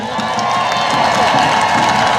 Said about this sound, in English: Give them some snaps and a clap.